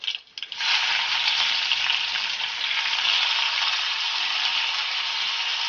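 Chopped onion drops into hot oil with popped mustard seeds and sets off a loud, continuous hissing sizzle after a brief clatter at the start, close and steady throughout.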